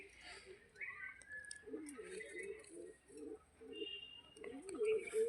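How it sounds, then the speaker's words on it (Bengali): An old-generation Giribaz pigeon coos in soft, repeated low phrases close by, mixed with faint chirps and someone talking. "এই আর একটি পায়রা"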